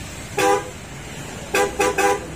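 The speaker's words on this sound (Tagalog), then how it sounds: "Hindi maganda yung busina niya." A Honda Jazz car horn honks three times: one short toot, a pause, then two more quick toots, moderately loud over low road rumble.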